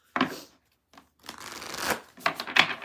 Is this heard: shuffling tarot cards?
yes